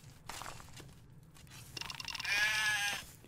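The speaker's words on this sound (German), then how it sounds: "Ich höre Schafe, das ist ein gutes Zeichen." Sheep bleat in the video game Craft the World, a few short close calls that rise into a loud, sustained wavering bleat near the end, alone with no talk over it.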